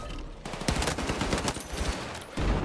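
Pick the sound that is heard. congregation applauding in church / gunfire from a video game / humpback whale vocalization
gunfire from a video game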